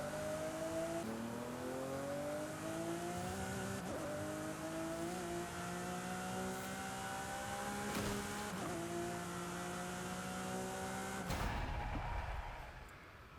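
Lamborghini Aventador SVJ engine in the Forza racing game, a loud V12 wail climbing through the gears with sharp shift drops, then a brief rougher burst before it cuts away.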